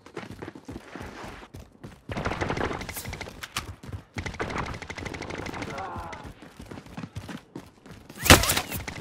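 Bursts of rapid video game gunfire come in short clusters, with one sharp, loud shot near the end, under game voice lines and background clatter.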